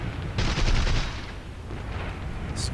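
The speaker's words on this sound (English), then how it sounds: "finish off whatever was left in my cannons, all the ammo, and lay into them with the machine guns" Fighter aircraft cannon and machine guns fire in the War Thunder combat flight game, with a loud burst of rapid shots followed by quieter engine noise and a brief sharp tone.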